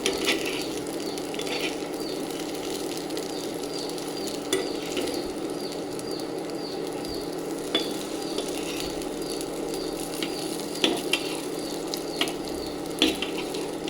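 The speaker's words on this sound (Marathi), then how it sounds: "आपल्या या वड्या शिजलेल्याच असतात स्टीम झालेल्या फक्त एक फ्राय करायचा म्हणून आपण त्यांना दोन ते तीन मिनटं आपण फ्राय करून घेणार आहे" Steamed coriander vadi fry in a pan with a steady, soft sizzle, broken by occasional scraping and stirring sounds from close by.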